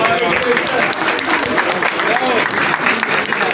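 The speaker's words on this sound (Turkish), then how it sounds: "Gençlerimize bir alkış istiyorum" A crowd at a Republic Day cocktail reception held by the Bandırma Eğitim-İş teachers' union applauds the young people, giving a dense, steady clatter of many hands close by, with voices mixed in.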